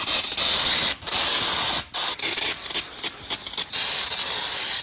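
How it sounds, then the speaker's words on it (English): Brake cleaner sprayed from an aerosol can onto oily gunk, loud close hissing in long bursts broken by short pauses, with no talking. "I want to get some brake cleaner and get all this gunk cleaned up."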